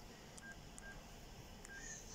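Keypad tones from a cordless phone with a color digital display as a number is entered, a few short beeps spaced irregularly over a hissy background, faint and with no talk.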